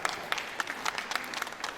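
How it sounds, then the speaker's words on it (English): Audience at a conference award night clapping together, a dense patter of many hands with sharp individual claps standing out, fairly close and steady across the whole short burst. "So I think ANPMP deserves a round of applause for that."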